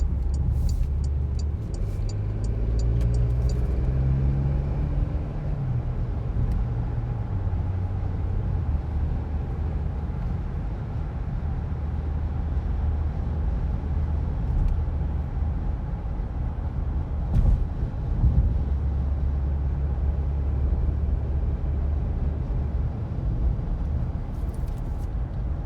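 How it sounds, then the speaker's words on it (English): A 2021 Porsche Macan S engine pulls hard and steady from inside the cabin, rising through several gear shifts with a continuous low drone and road rumble. "And you'll get an idea how this car takes off."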